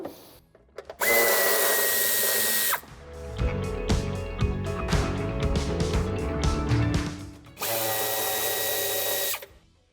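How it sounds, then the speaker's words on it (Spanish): A power driver loosens screws on the boot trim of a 2016-on Hyundai Ioniq Hybrid, with two loud sustained motor whirs framing a stretch of clicking, ratcheting and rattling handling sounds, close up with no talk. "Aflojaremos los tornillos tanto de la izquierda como de la derecha del tapizado para poder ahuecarlo."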